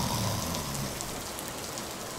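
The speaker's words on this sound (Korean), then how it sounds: "차에 타자마자 갑자기 소나기가 내리기 시작했다." A sudden rain shower heard from inside a car, a dense steady hiss of drops drumming on surfaces, constant and fairly loud with no pauses.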